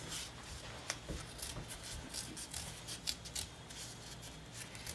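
Scissors snipping through a toilet paper tube, a rapid series of short crisp cuts and rustles close up, fairly quiet, with no talking.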